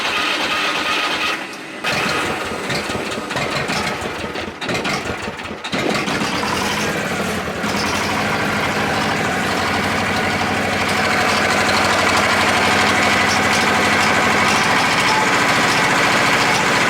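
Diesel tractor engine cranking briefly, then catching and settling into a steady, loud idle close by, a continuous rumbling drone that holds for the rest of the stretch with no talk.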